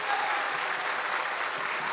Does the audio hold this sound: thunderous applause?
yes